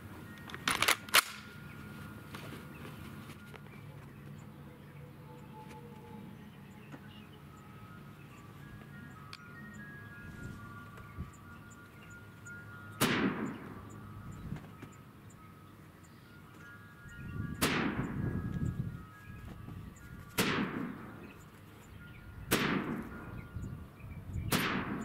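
Five sharp rifle shots from a Tavor 7 bullpup .308 firing Federal hunting rounds, one near the start and four more spaced a few seconds apart later on, each loud and cracking with a short echoing tail over quiet outdoor background.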